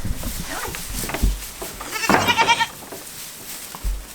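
A farm goat bleats once, loud and close, in a long wavering cry as goats are let out to pasture, with scattered thumps and faint farmyard noises before and after.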